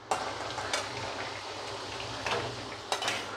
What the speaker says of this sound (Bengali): বাকিগুলো আমি ভেজে নিই।